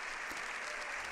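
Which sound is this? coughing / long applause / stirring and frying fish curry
long applause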